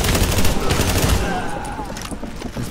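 Rapid bursts of automatic gunfire in the video game The Division during a field hospital mission, dense overlapping shots for about a second that then thin out, with a faint voice underneath.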